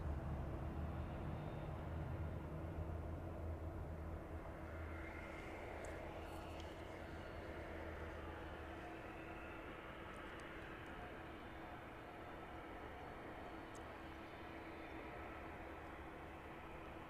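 A fixed-wing airliner taxiing at East Midlands Airport toward the start of runway 09 in the evening, a steady distant engine rumble and whine holding level throughout with no speech.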